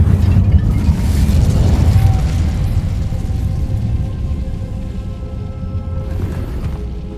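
A fire spell blast in a wizarding video game bursts with a loud, deep booming whoosh that rumbles and slowly fades, with a brief crackle near the end.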